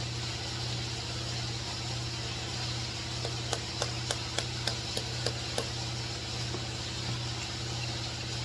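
Hammer blows drive a stuck injector out of a John Deere engine head, seven sharp metallic strikes in quick succession over a steady engine or compressor hum, with a single fainter tap afterward.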